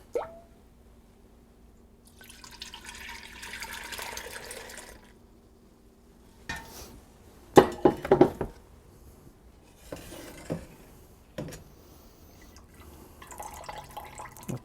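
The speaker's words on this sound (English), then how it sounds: "I use this whenever I'm straining stock." Chicken stock draining through a fine mesh conical chinois into a pot, with intermittent trickles, drips and plops alongside brief knocks of metal cookware, fairly quiet with gaps of near silence.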